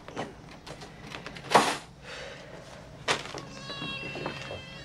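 A cat meows while being given medicine, with soft handling clatter and a sharp bump before a drawn-out, fairly close meow near the end.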